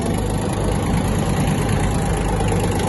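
A Yanmar F-175 mini tractor's small engine runs steadily with a low, chugging rumble, constant and close, with no sharp changes as it pulls away in first gear.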